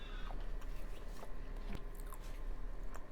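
Someone chews a chocolate-covered marshmallow candy with both milk and dark chocolate coating, soft squishy bites and faint crunches close to the ear, alone without talk.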